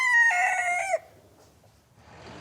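A rooster crows once, loud and close, a harmonic cock-a-doodle-doo lasting about a second that breaks off sharply, followed by quiet and then a faint rising hiss like distant road traffic.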